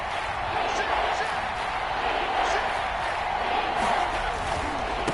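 Seattle Seahawks home stadium crowd roaring during a red-zone third down in an NFL game, a steady, loud wash of noise with talk over it.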